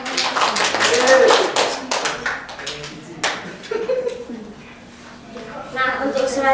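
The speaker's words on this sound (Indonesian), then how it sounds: "Beri tepuk tangan kepada teman-teman." Students in a classroom clap for classmates, a short patter of hands that fades into scattered taps and a lone clap, with brief voices between and renewed clapping at the end.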